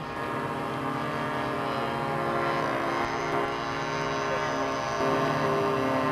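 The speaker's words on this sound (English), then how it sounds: "And away goes the Spitfire." A model Spitfire drones steadily overhead at the 1994 Telford model show, a continuous moderately distant propeller engine hum with no break.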